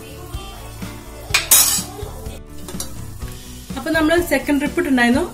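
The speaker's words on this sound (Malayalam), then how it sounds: "അപ്പൊ ഇതുപോലെ നിങ്ങള് ഫ്രൈ ചെയ്തെടുക്കാം" Vettu cake, a crisp-fried Kerala tea-shop snack, fries in hot oil with a loud bubbling sizzle, broken by clinks and stirring of a metal utensil against the pan. A voice talks over the frying near the end.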